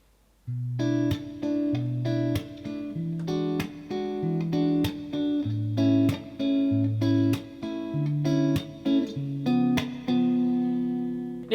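Guitar chord progression for a song, strummed and picked continuously with clear ringing notes and steady changing chords, no talking.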